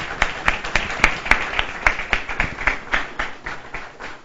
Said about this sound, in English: an applause of thanks from all of you